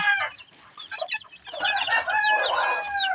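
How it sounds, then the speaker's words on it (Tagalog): Month-old chickens cluck and chirp busily at feeding time, a dense chorus of close, overlapping fowl calls that grows louder and fuller partway through, with no talking. "At ito naman yung isang buwan na na manok pakainin din natin to"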